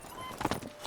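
Horse hooves clip-clop in the video game The Witcher 3, a quick cluster of a few hoofbeats, close and fairly soft, with no voices over them.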